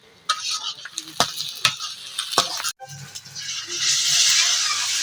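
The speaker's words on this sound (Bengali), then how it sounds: "এখানে দেশি মুরগি রান্না করবে তাই পিস দিয়ে দিয়েছে আর গরম গুলো দিয়ে দিয়েছে এখন এগুলো সব ভাজা ভাজা করে নিবে" Desi chicken pieces frying over a clay stove, several sharp scraping and clinking strokes of a utensil against the pot, then a loud, rising sizzle.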